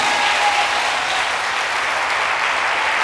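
A church congregation applauds and acclaims Jesus, a steady, loud wash of clapping that holds unbroken from start to finish.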